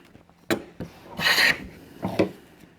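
Hand plane with new handles taking wood shavings, heard as a few separate rasping strokes, the middle pass longest and loudest, with short pauses between.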